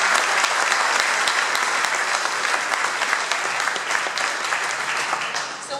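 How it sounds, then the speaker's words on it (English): A county event audience breaks into sustained, even applause for a speaker, a dense wash of many hands clapping at steady volume throughout, easing slightly near the end. "let's give Teresa a big, big round of applause"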